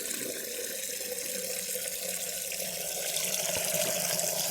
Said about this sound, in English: The kettle is getting filled.